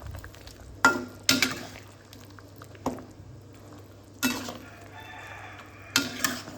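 Pork cooking with salt in a pot is stirred, with several scraping clatters of a utensil against the pot over a low simmering hiss.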